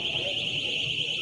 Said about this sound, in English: Those are alarms going off inside that airport.